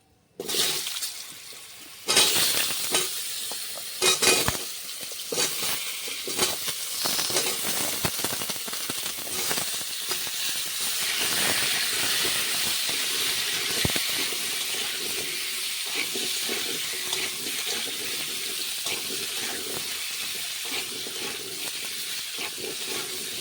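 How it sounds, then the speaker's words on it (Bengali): Potatoes frying in oil with turmeric give off a loud, dense sizzling hiss that bursts in sharply at the start, then settles into a steady, continuous crackle close by, with no talking. "আর ওই তেলে অল্প একটু হলুদ দিয়ে দিচ্ছি। আলুটা আমি ভেজে নিচ্ছি।"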